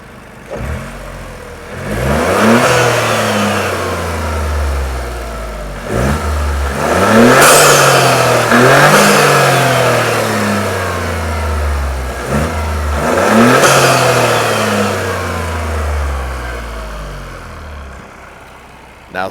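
A car with an MST Performance open-element intake, stock exhaust and mid-pipe, revs repeatedly in loud rising and falling bursts, with turbo blow-off whooshes between pulls, close and without talk.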